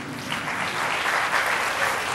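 Steady applause from an audience at an award ceremony honouring students' exam results, a continuous dense patter of many hands clapping for a couple of seconds with no voices over it.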